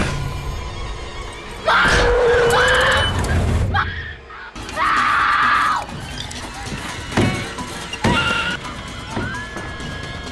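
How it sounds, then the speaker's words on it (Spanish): A young woman screams in a horror film about a kidnapping by a satanic cult, two long piercing screams among scene noise and rustling, with a fainter cry near the end. "¡Ay! ¡Cómo grita!"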